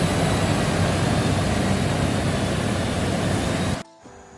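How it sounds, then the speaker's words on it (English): A car engine in a Phnom Penh garage is held at high revs during a radiator coolant test, a loud, dense, steady roar that cuts off abruptly near the end. "the way I revved the engine up"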